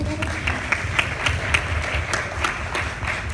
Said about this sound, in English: a little clap for us